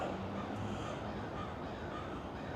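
Crows caw outdoors near a shopping area under construction, a few calls half-buried in a constant wash of street and traffic noise.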